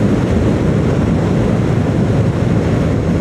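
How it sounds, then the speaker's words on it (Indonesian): Strong wind roars and buffets while riding a motorcycle on the road through Prambon toward Kediri. The rushing noise is loud, dense and continuous, with no voices heard. "Anginnya sangat kencang."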